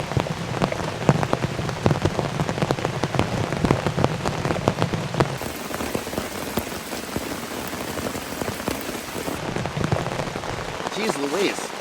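Heavy rainstorm pounding on a blue camping tarp, a dense, continuous patter of drops drumming close and loud, with a brief voice near the end.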